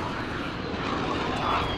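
Gunship aircraft droning overhead in Call of Duty Modern Warfare, a steady, loud engine roar filling the whole short stretch with no talking over it.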